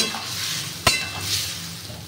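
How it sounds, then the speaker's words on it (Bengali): Soybean and potato curry stirred in a pan with a splash of water and spices, a steady soft sizzle and scraping stir running throughout, with one sharp utensil knock against the pan near the start. "জল দিয়ে খুব ভালোভাবে মশলাটার সাথে জলটা দিয়ে সয়াবিন আলুটা আমি আবারও নেড়ে চেড়ে মিশিয়ে নিচ্ছি।"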